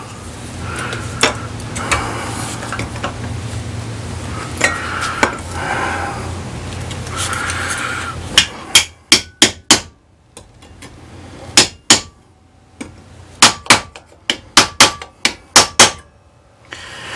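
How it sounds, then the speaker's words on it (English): Metal tabs being bent down by striking them with a piece of scrap aluminum: sharp, close metallic taps ring out in irregular clusters after a stretch of steady background noise. "I'm going to use a piece of aluminum and bend these tabs down."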